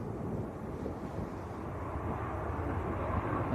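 An Aer Lingus Airbus A320 airliner from Dublin at Manchester Airport gives a steady, broad engine roar at moderate distance, mixed with wind buffeting on the microphone and holding even throughout.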